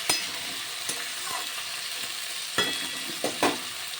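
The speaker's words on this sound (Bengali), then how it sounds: "আলু ভালো করে ভেজে নেব এই মশলার সঙ্গে, মানে পেঁয়াজ রসুনের সঙ্গে।" Potatoes frying with an onion-garlic masala and chopped tomato, a soft continuous sizzle broken by a few sharp scrapes and clicks of stirring, close and fairly quiet.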